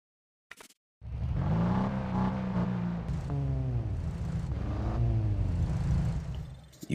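A race car drifting in the Need for Speed No Limits mobile racing game during a drift challenge, with a loud, steady engine roar and tire squeal that rises and falls through continuous revving, following a short click.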